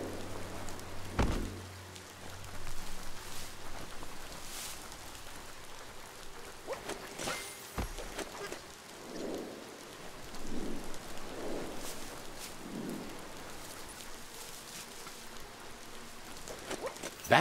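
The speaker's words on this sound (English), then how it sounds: "Rain?" Rain falling in the video game Biomutant, a steady wash of rainfall with a low thunder rumble early and a few soft low tones drifting through, moderate and continuous, no voices.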